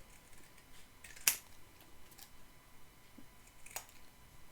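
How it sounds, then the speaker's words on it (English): Scissors snip through a paper journal tag indoors, with two sharp, isolated cuts about two and a half seconds apart against a quiet background. "Let's cut out one of these tickets, I think."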